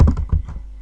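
Computer keyboard being typed on, a quick run of a few close, soft clicking keystrokes.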